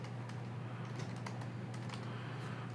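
Typing on a computer keyboard while entering text into a web page text block, a steady stream of light, close key clicks with no talk over them.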